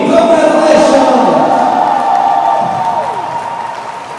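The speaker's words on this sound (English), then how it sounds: "Give a big applause from the Australian team." An arena crowd applauds and cheers loudly for the Australian team after the women's bronze medal match at the 2019 Dodgeball World Championships. The sustained clapping fades slowly as a voice talks over it.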